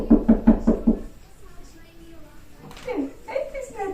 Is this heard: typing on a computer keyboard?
no